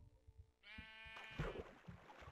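A sheep in Minecraft on PS3 lets out a clear, nasal bleat, close and prominent, laid over soft repeated footstep-like thuds.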